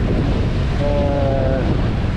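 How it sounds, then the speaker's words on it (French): Steady roar of 15-knot wind and surging waves at sea aboard a sailboat running under a code zero sail between Gran Canaria and Tenerife, continuous and loud with a faint tonal whine partway through. "C'est le vent réel, 15 nœuds."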